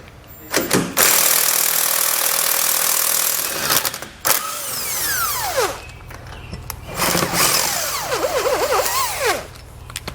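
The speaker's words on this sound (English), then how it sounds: "we're going to grab a 16mm socket and pull all 3 of those out." A 16mm socket on a power tool removes three bolts from a 2003 Jeep Wrangler during a base plate install. Loud, sustained bursts of tool whirring alternate with short pauses, and high squealing chirps come between the bursts.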